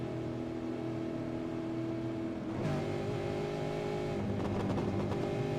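V8 Supercars race cars circulate on the track at Daytona as a steady, moderately distant engine drone with layered tones. The pitch shifts noticeably partway through, and no one talks.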